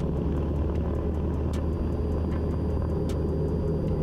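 Small aircraft engine held at full power during the takeoff roll, a steady loud droning roar with a constant low rumble, continuous and close, with faint ticking clicks over it.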